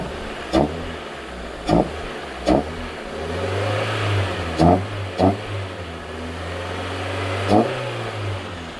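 1994 Toyota Corolla with the 7AFE engine running just after startup, a low steady idle hum with a few sharp clicks and knocks popping out over it.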